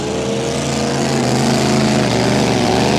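Unlimited displacement racing boat engine at a Glenmaggie club day warm-up, a loud, steady high-revving drone with a droning harmonic whine running continuously and close throughout.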